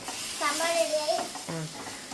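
Sambar is stirred in a cooking pot over a continuous broadband sizzle, while a voice talks briefly over the cooking noise.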